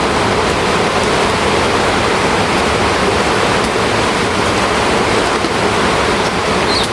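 Heavy typhoon rain pours down in a steady, dense roar that fills the whole stretch without a break, loud and close, with no voices.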